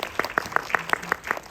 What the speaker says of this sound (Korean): 다시 한번 큰 박수로 맞이해주세요